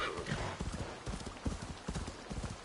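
A horse gallops in Assassin's Creed Valhalla with a quick, steady clip-clop of hooves under faint game ambience, close and continuous for a few seconds.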